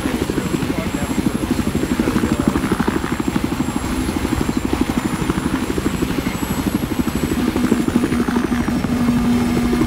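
A helicopter in Battlefield 4 drones overhead, its rotor thumping in a fast, steady rhythm, loud and close throughout with a high engine whine.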